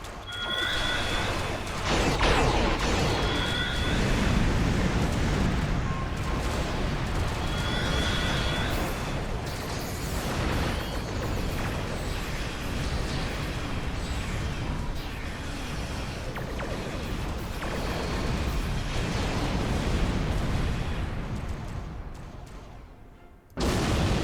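Starship weapons fire and explosions in the space game Star Trek Online, a dense and loud barrage of booming blasts and crashing impacts with repeated tonal zaps, sustained for most of the stretch before cutting off abruptly near the end.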